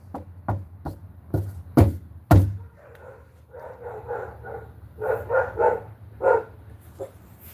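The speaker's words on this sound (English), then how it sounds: "I forgot that dogs bark when you knock on a door" Several loud, close thuds of knocking on a door open the clip, then a dog barks repeatedly in short bursts in the same room.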